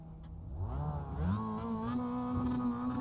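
A racing car engine in the iRacing simulator revs up, its pitch climbing and then holding a high steady whine, close and loud.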